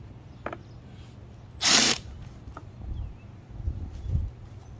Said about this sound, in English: I'm going to put a couple screws in anyway